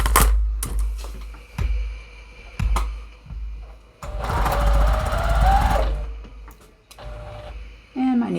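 A sewing machine stitches quilt squares corner to corner in short mechanical bursts, then runs in one longer stretch of rapid needle chatter before stopping and starting again.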